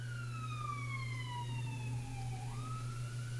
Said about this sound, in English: I think it was an ambulance.